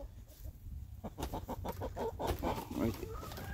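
Backyard chickens kept on a garden plot for weeding and fertilizing cluck in a quick series of close, rhythmic calls over low background noise.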